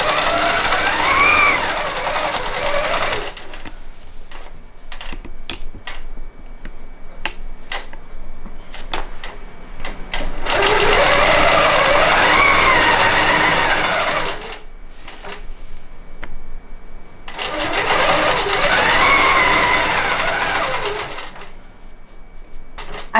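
A longarm quilting machine stitches binding onto a quilt still on the frame, running loud and steady in three long stretches of rapid mechanical chatter separated by quieter pauses with light clicks, and no one speaks.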